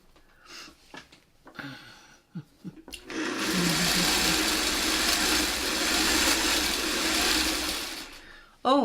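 A home sewing machine stitches quilt strips for a beginner bull's-eye quilt, running in one steady, loud, whirring mechanical burst for about five seconds after a few seconds of quiet movement and brief voice sounds.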